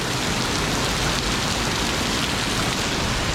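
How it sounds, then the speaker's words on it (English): Steady afternoon rain falls in a hiss of dense, even drops, close and continuous with no voices. "So, this is the daily rain."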